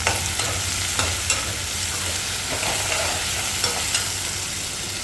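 Onions sauté in a pan for semiya upma, a steady close sizzle with occasional scraping stirs and no talking.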